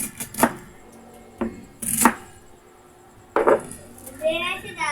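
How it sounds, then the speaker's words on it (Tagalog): Cabbage being chopped with a knife on a board while pansit is prepared at home: a few sharp, close chops spaced irregularly, with voices talking in the background. "Magagaya tayo ng repolyo."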